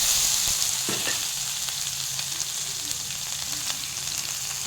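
Coarsely ground masala with asafoetida fries in a pan, a bright, steady sizzle running throughout with a few faint stirring clicks, close and alone.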